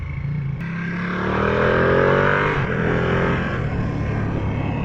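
A 2020 Ducati Panigale V2 motorcycle engine drones loudly and steadily, rising in pitch as it pulls through gears with the quickshifter, with a brief sharp change in tone at each shift.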